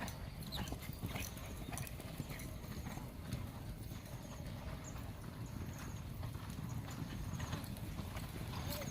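Horses trotting during an exercise session, their hooves producing a steady, rapid clip-clop over a constant rough background of noise, at moderate distance.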